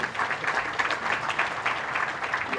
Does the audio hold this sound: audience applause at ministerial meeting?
yes